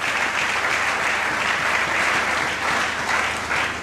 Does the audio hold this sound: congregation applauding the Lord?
yes